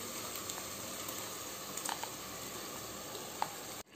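Tomato paste and soaked meal maker soy chunks sauté in oil for biryani, a faint, even sizzling hiss with a few small pops and ticks, then an abrupt cutoff at the end.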